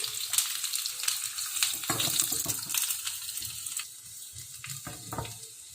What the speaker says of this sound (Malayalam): ഇനി നമുക്കത് വെളിച്ചെണ്ണയിൽ വറുത്തിടണം കേട്ടോ